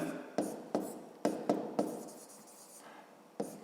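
A pen or pencil writes on paper during a fifth-grade maths exercise, several short scratchy strokes in an uneven rhythm, close and quiet.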